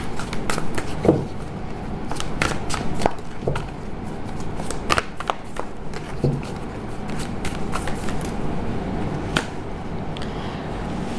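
Tarot cards being shuffled and drawn during a card reading, a soft papery rustle with scattered sharp card snaps and taps, steady and close throughout.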